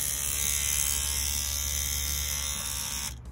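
A Mummy C1 tattoo machine running at a steady high-pitched electric buzz, close and continuous for about three seconds before it cuts off.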